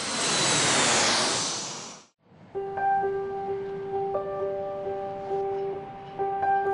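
An airliner at Geneva Airport roars loudly past at takeoff, then the sound cuts abruptly to a quieter scene where steady tonal engine hums from planes on a busy tarmac linger.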